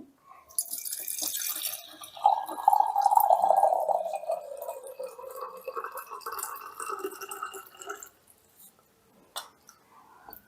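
Water poured into an Italian moka pot coffee maker, a close splashing and trickling stream with dripping, rising in pitch as it fills and then stopping with a couple of small clinks.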